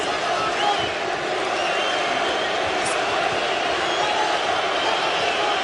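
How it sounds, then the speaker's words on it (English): A boxing arena crowd during a Vitali Klitschko bout keeps up a dense, steady roar and murmur with scattered shouts, heard throughout at an even level. "The crowd are slightly disappointed because Klitschko hasn't tried to throw any big shots."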